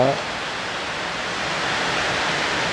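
A dense, constant hiss of heavy rain pouring down at night, loud and close, steady throughout with no distinct drops standing out.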